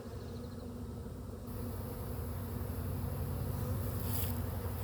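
A honeybee swarm hangs on a tree limb, giving a steady, dense buzzing hum that grows slightly louder partway through, with no voices.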